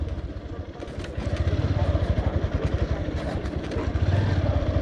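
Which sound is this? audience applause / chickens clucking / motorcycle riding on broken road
motorcycle riding on broken road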